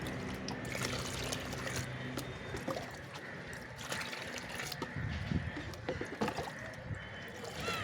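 Water poured into a container to make liquid garden fertilizer, a close splashing and gurgling stream with trickles and knocks against the vessel, fairly quiet.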